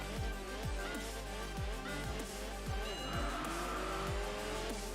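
A rally car in the Enthusia Professional Racing game drives a dirt stage, its engine revving up and down through repeated gear changes with tire skids and squeals, loud and close throughout.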